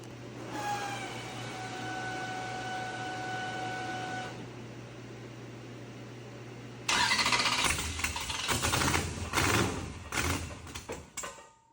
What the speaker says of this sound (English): So we'll see if it fires up.